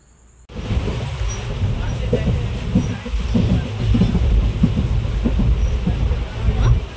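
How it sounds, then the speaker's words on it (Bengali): A passenger train pulls in, its loud, steady low rumble and rolling wheel clatter continuing close by for several seconds, with indistinct background voices. "তো ফাইনালি আমাদের ট্রেনটা আসলো।"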